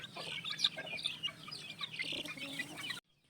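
Young chicks, some a month old and some three weeks old, cheep and cluck steadily together in a pen, close and fairly quiet, ending abruptly.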